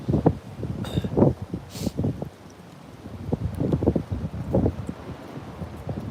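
Strong gusty wind buffets the microphone at a commuter rail site, a steady low rumble with rustling swells that rise and fall throughout, a brief lull in the middle before the gusts build again.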